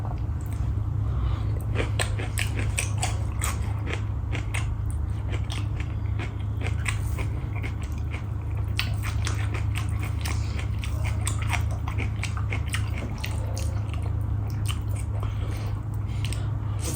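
Eating dhido with ghee during a Nepali mukbang with chicken curry, black dal and mustard greens: steady, close, wet chewing and soft crunching sounds continue for the whole stretch over a low hum.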